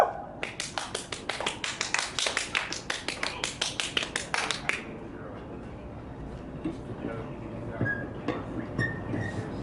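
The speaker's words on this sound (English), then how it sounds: "Tina Huerta, let's give her a round of applause." A small audience at a poetry reading claps in a fast, even run of distinct claps for about five seconds, then quiets to scattered light sounds and murmuring.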